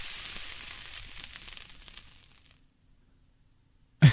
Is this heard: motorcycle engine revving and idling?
no